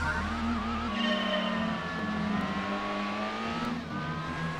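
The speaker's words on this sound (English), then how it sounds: "Why does it sound supercharged?" A race car engine in the video game Gran Turismo 2 whines at Midfield Raceway, its pitch climbing and then settling after a shift. The engine is heard alone at a moderate level.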